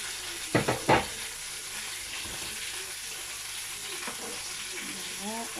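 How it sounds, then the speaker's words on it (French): Ingredients for a duck dish being mixed together in a pan, with a few sharp scraping clatters early on over a soft steady sizzle, and a faint voice in the background. "Donc, je vais mixer tout ça"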